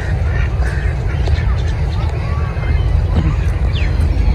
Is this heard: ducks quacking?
yes